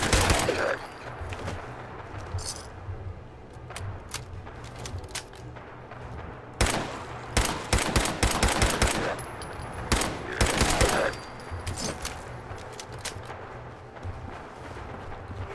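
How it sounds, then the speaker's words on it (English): Bursts of rapid gunfire in Fallout 4 crackle in clusters, some long volleys and single shots, over a steady low rumble of game ambience. "Really need to figure out what's all that gunfire is."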